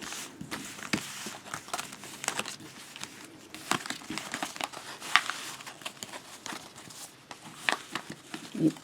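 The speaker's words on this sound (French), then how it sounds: "Bon, je la remets dans le jeu. On va continuer à les mélanger." A deck of playing cards is shuffled by hand again and again, giving crisp riffling and soft crinkling flutters in irregular bursts. The sound is close and fairly quiet, with no speech.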